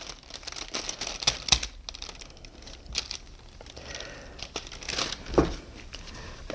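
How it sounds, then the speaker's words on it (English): White tape being peeled off a vacuum bag, soft intermittent crinkling and tearing rustles up close, with quiet pauses between pulls. "We got to be careful about making sure that white tape gets removed"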